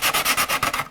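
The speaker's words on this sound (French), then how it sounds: "maintenant poncer les bords pour que ce soit bien propre" Sandpaper rubbed by hand along the wooden edges of a guitar body, a close, steady rasping in about six even strokes that fade out at the end.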